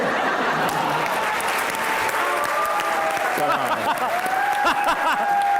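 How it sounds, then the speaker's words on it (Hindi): A studio audience at a talk show interview applauds in a steady, loud, continuous roar of clapping, with voices and laughter mixed in underneath. "बहुत ज़्यादा तालियां बजनी चाहिए।"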